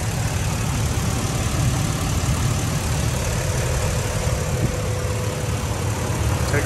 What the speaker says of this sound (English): Take a pause, let you listen to the motor.